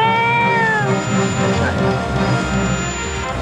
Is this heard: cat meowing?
yes